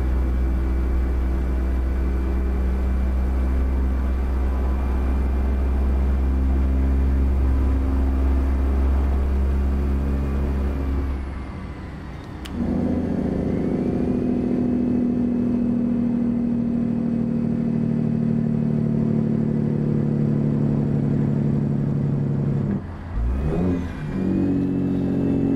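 Truck engine in American Truck Simulator droning loudly at steady revs, then dropping abruptly as a gear changes and climbing again into a strong sustained pull, with another brief dip near the end.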